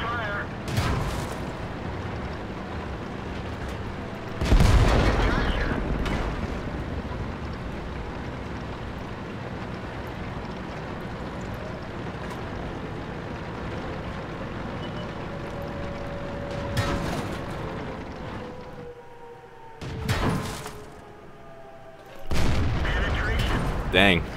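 Tank cannon shots in the online game World of Tanks: a few loud, booming blasts spaced seconds apart over a continuous engine rumble, with a player talking at times.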